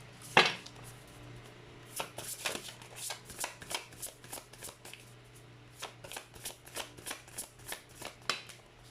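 A deck of playing cards is shuffled for a card reading, with an initial sharp riffle followed by a series of rhythmic, close, crisp flicks and snaps.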